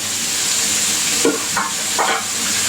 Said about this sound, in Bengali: মাছটা দিয়ে দিয়েছি চুলায়, আর মাথা ভেজে নিই